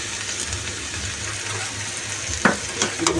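Meat frying in a pan with ginger, garlic and onion paste, a steady low sizzle with a few sharper stirring scrapes near the end, close and without talk.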